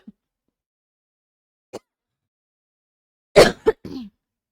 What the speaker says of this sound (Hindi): भाई खांसी हो रही है, मिटने का नाम ही नहीं ले रही